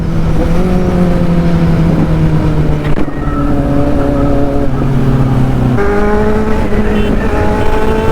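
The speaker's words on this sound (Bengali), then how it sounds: "টায়ার ফুল স্কিড মেরে গেছে একদম ওখানে" Kawasaki Z900 motorcycles race loudly and close, engine roaring steadily with shifting revs and a squealing tire skid, no voices over the continuous noise.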